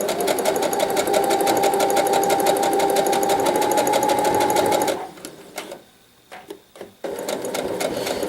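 A sewing machine runs steadily, straight-stitching along a scarf for about five seconds, then stops and leaves a few quiet clicks and handling noises before the steady whir starts up again.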